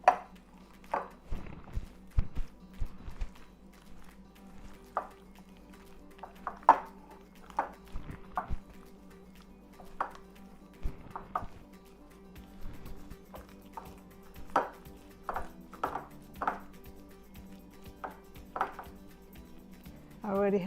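About two pounds of ground turkey meatloaf mixture is worked together in a bowl, giving scattered soft knocks and taps at an uneven pace, quiet and close, with no voices.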